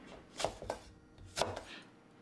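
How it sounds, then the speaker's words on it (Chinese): Knife cutting red chili peppers diagonally into slices on a board, a few crisp close chops in quick succession, then a pause and two more cuts, no talking. "辣椒也斜切成片"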